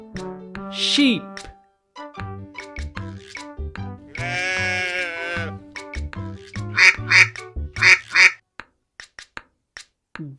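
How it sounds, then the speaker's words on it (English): A duck quacks in a string of short, sharp bursts, with a longer wavering call among them, over a plucky backing tune with rhythmic clicks. "Duck."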